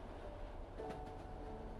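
A train running through the Italian countryside, a low steady rumble with a faint rattle of the carriages, continuous and moderately distant.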